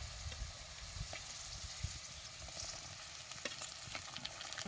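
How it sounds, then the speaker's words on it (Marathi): Green peas, chopped tomato and green chili sizzle steadily in hot oil in a village kitchen, a dense continuous frying crackle with occasional stirring scrapes, close and alone without talk. "आता हे सगळं असं तेलात चांगलं भाजून घ्यायचं"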